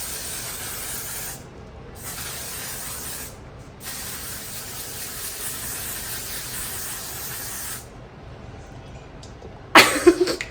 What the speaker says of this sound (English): I love this setting spray.